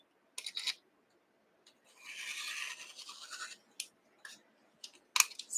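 Scissors or a rotary cutter slicing through cotton quilt fabric between sewn seam lines, with several short crisp snips and a longer sustained cut in the middle, fairly faint and close.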